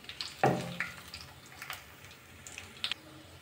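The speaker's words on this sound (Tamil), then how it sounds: "நம்ம முந்திரி வறுத்து எடுத்துக்கலாம்." Cashews roasting in a pan for carrot rava laddu, a soft, faint sizzle with a few scattered light scrapes and pops, one louder stir near the start, quiet throughout.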